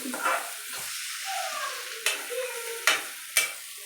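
An egg fry is stirred in a frying pan, with a steady sizzle under a scraping spatula and three sharp clanks against the pan near the end.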